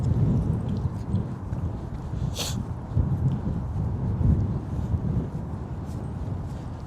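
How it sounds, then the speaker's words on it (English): Cold wind gusting steadily past the microphone on a Toronto street on a chilly evening, a loud continuous low rumble with no speech. "We just feel that wind breezing in. It's the wind that makes you really cold."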